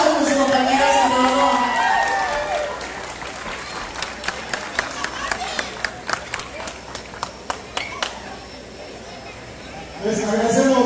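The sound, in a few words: audience applause and cheering for a musician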